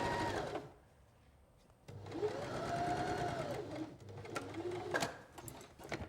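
Sewing machine stitching fabric pieces together for a log cabin quilt block, a short whirring run, a pause, then a longer steady burst followed by a few stop-start runs, moderately quiet and close.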